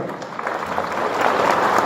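Audience applause at a concert in a palace of culture, swelling from light clapping into fuller, louder applause over a couple of seconds.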